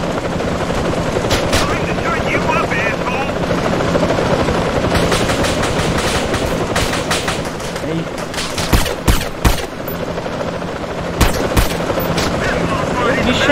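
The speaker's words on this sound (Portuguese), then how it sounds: "Difícil de matar, mas é helicóptero, é tiroteio." Gunfire and a helicopter in the video game GTA: a steady helicopter rotor drone under rapid bursts of automatic fire and sharp shots that grow louder in the second half, with a player's voice talking over it.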